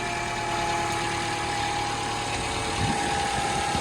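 A Toyota Camry engine idles steadily up close, a constant low rumble with a faint whine above it and no pauses.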